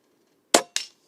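Two sharp, close air rifle shots from a P-Rod fitted with a Buck Rail AR15 tactical conversion kit, spaced about a quarter second apart, each a loud crack with a quick decay, alone with no talk.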